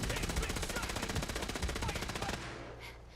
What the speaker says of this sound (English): Then Vic shot me.